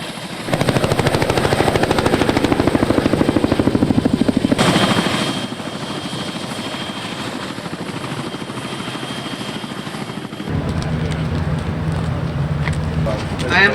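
A military helicopter roars loudly and steadily nearby with a strong low rotor thump, easing off midway and then swelling back as a deep rumble, with wind buffeting throughout.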